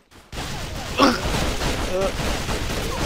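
Gunfire in the online shooter A.V.A, a dense crackling stream of rapid shots and bursts that runs on steadily at close range, with a voice talking over it.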